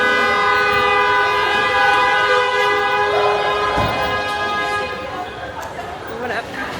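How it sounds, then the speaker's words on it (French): Car horns honk on a busy Chinese city street, layered sustained blaring tones that hold steadily over a dense traffic rumble, loud and close, easing slightly near the end. "ici, tout le monde klaxonne pour tout"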